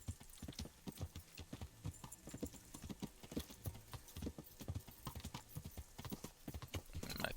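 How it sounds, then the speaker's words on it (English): A horse named Pibbles clip-clopping in the medieval video game Kingdom Come: Deliverance, a brisk, rhythmic run of hoofbeats at moderate volume with faint background ambience and no voices. "My trusty steed Pibbles."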